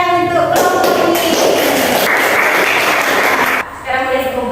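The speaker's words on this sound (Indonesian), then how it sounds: "Baiklah, tepuk tangan untuk kelompok ini." Classroom group claps for a student group after their presentation, a dense burst of hand claps and taps lasting several seconds, loud and close, with voices mixed in.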